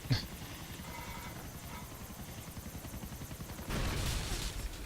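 A helicopter in Grand Theft Auto: The Ballad of Gay Tony thrums with a rapid, steady rotor chop throughout, followed by a louder burst of noise near the end.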